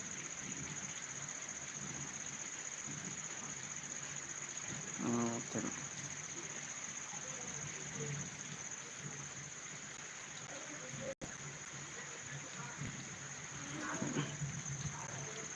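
Rain falls steadily in Raybag, a continuous even hiss across the whole stretch with one brief louder patch midway and no voices.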